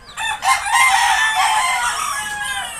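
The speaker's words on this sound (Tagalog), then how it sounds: "ang daming manok" Chickens at a breeding farm crow and cluck close by, one loud, drawn-out rooster crow rising over overlapping hen calls in a busy flock.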